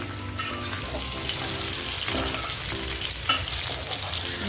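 Pre-boiled food fries lightly in hot oil, giving a dense, continuous close-up sizzle with faint stirring and clinks throughout and no talk.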